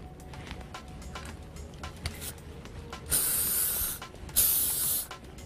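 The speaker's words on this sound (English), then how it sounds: "You're going to hit this each section with a little hairspray and just back comb it down." Two bursts of hairspray hiss close up as sections of hair are back-combed for volume, each spray lasting about a second, with softer brushing and rustling between them.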